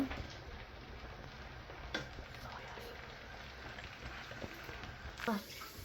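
Prawn noodles with egg sauté in a pan with a steady, soft sizzle throughout, broken by a couple of brief utensil knocks near the start and end.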